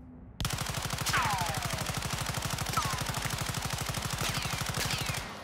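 Gunfire in Warzone 2 at a firing range, heard as a loud, steady stream of rapid automatic shots that holds unbroken for about five seconds, with faint whistling tones over it.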